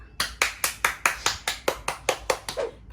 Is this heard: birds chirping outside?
no